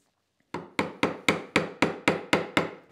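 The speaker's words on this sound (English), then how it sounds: "Just eyeing the chisel, making sure I'm keeping it perpendicular." Chisel struck with a mallet while cutting to knife lines on a Moxon vice: nine crisp, evenly spaced wooden knocks, close and loud, following a brief silence.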